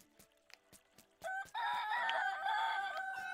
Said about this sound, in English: We're gonna hear a lot of roosters because we do have 4 roosters in that area.